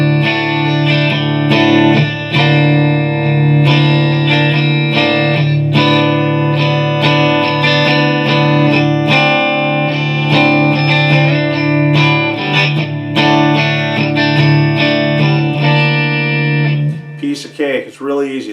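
Heavily distorted electric guitar plays loud sustained chords of a riff with rhythmic strummed accents, thick and buzzing, continuing steadily before a scrappy stop at the end.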